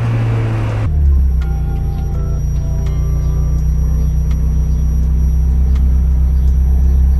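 A turbocharged Mazda Miata engine running at 15 psi boost hums in a steady low drone after a brief louder opening, close and continuous with faint ticking over the top.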